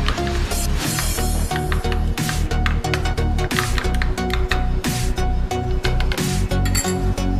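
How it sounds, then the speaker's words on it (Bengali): A utensil beats eggs with chopped green chilli in a bowl for a bread omelette, making rapid, loud, close clinking and tapping strokes in a fast steady rhythm with no pauses. "ভালো করে একটু ফেটিয়ে নিতে হবে।"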